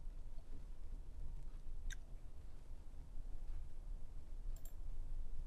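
A computer mouse clicks a few times while an image is replaced in Google Sheets, with faint sharp clicks around two seconds and again near the end over steady low background hiss.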